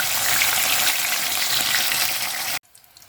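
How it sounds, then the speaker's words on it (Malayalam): Eggplant pieces for eggplant chilli fry in hot oil, giving a loud, close, continuous sizzle that stops abruptly near the end. "നന്നായിട്ടൊന്ന് വറുത്ത് പോരാം നമുക്ക്"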